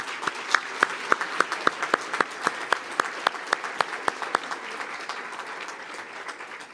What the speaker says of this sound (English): If you'll give them a big round of applause.